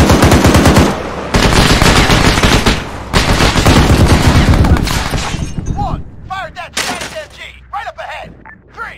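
A machine gun fires loud, rapid sustained bursts at close range, the shots tapering off toward the end, where softer clatter and indistinct voices can be heard.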